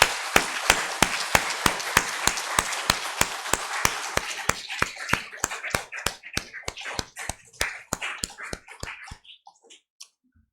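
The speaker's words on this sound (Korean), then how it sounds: "여전대를 위해서 격려의 박수를 하십시오." A church congregation gives applause, rhythmic unison clapping that begins loud and regular, then thins into scattered, fading claps before stopping.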